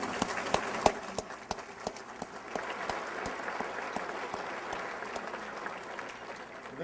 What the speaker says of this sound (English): How about one last round of applause for our first round of inductees?